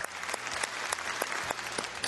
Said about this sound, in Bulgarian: Аплодисменти за четвъртия играч днес